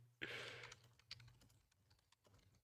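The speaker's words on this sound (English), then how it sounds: "I'm just typing out something to share this with my vast audience" Computer keyboard typing, a quick burst of close, loud key clicks at the start that thins into sparser, softer taps over a low steady hum.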